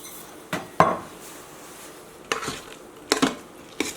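A spoon scrapes and clanks against the metal pot of an Instant Pot while stirring black beans and rice with salt, giving a few sharp, separate knocks spaced across a quiet background.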